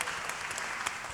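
Audience applause at a city-planning conference on inclusive cities, a steady wash of clapping that fills the clip from start to finish without voices.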